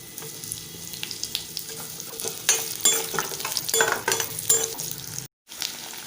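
Onion sizzles in hot oil in a kadai for tomato coriander chutney, a steady close frying hiss broken by repeated spatula scrapes and stirring clatter, with a brief silent gap near the end.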